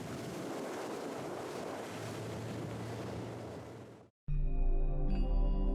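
Steady broadband rush of water and wind from a moving boat on a lake in Towada-Hachimantai National Park, Japan, for about four seconds, then an abrupt cut to a different tonal, humming scene.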